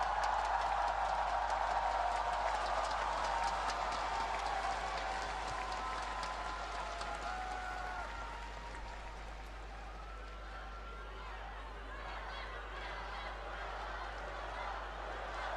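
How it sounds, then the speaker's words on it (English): Esports arena crowd at MSI 2025 cheering and applauding, a dense continuous roar of clapping and voices that stays loud throughout, easing slightly midway. "So I would like to ask for one more cheer for me to keep going forward."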